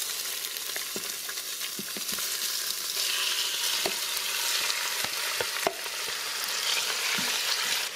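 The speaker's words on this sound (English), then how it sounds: "Now we're gonna saute our beef." Beef sautés in an Instant Pot with a bright, steady sizzle, broken by occasional scrapes and taps from stirring, close and clear.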